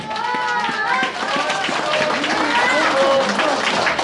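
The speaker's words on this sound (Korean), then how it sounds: "서구향의 김태수 회장님을 큰 박수로 네, 맞아주시기 바랍니다" An audience at a forum ceremony applauds as an honorary chairman is welcomed, steady mixed clapping with crowd murmur and voices underneath throughout.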